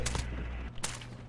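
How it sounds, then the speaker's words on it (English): Gunfire in Call of Duty: Modern Warfare, a loud burst of close shots in quick succession filling the short moment with sharp repeated cracks. "I just heard a gunshot and I'm scared"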